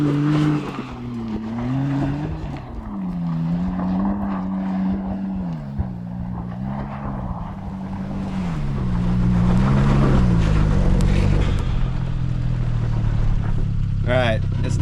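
A Suzuki Jimny JA11 straining in two-wheel drive on a climb, its engine droning and wavering in pitch, then growing louder and rougher toward the end.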